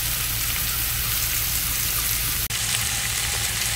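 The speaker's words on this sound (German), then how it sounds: "lasse ich das alles hier so ein bisschen köcheln" Vegetables and potatoes simmer in a pot in a campervan kitchen, a steady dense bubbling hiss close by that runs unbroken apart from one brief dropout, with no speech.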